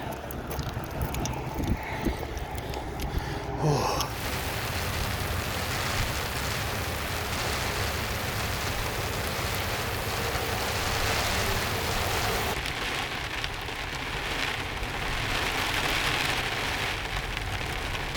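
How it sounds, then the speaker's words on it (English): Heavy rain drums steadily on a truck camper, a dense, close, continuous patter that swells louder about midway and keeps pounding, with a few faint knocks early on. "The rain is coming down real good."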